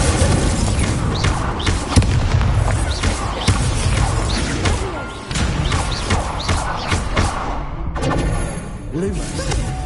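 Incendio fire spell cast in Hogwarts Legacy on PS5, a loud burst of booming, crashing blasts and thuds layered densely over game music and effects, with a short lull before the noise picks up again.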